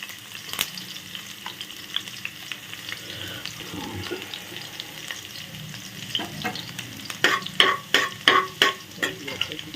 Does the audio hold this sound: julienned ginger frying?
yes